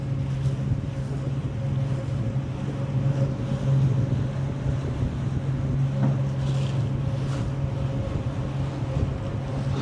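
Outboard boat motor running steadily on Bois D'Arc Lake in Texas, a continuous close hum with wind buffeting the microphone and faint water noise throughout, no talking.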